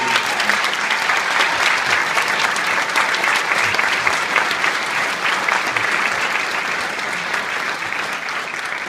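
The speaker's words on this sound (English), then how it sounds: "let's give the choir program another round of applause" A commencement audience gives another round of applause for the school's choir program, a loud, sustained wall of clapping that stays even from start to finish with a faint crowd murmur beneath.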